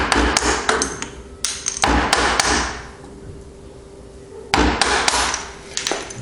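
A chisel is tapped down to cut a mortise, giving clusters of sharp, close, ringing taps separated by short quiet stretches.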